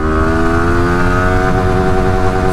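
Yamaha R15S motorcycle accelerating hard in first gear, a loud, steady, close-up engine roar whose pitch climbs smoothly throughout, with no voices.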